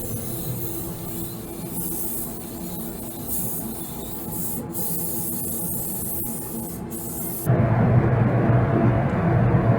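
A spray gun lays black base coat on a 2010-2013 Chevy Camaro front bumper cover, making a steady close hiss that continues without pause. Near the end the spray grows louder and fuller.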